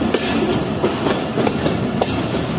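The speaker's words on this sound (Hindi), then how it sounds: "ट्रेन हमारी 11:15 बजे जो है वो स्किप कर रही है सम्मा सट्टा जंक्शन रेलवे स्टेशन को।" The Pak Business Express passes through a darkened Samma Satta Junction station at night, its wagons rumbling with a steady, loud clickety-clack of wheels on rails, heard continuously from on board.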